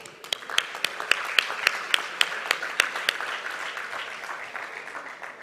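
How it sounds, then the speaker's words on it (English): An audience at a De Beers forum applauds the speakers; a few sharp, distinct claps at the start build into a fuller, steady round of clapping that then eases off. "let's give a big round of applause to all our eminent speakers today"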